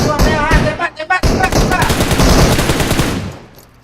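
Rapid automatic gunfire from a PUBG Mobile match, loud and close, in dense bursts with a short pause, as a voice speaks briefly at the start.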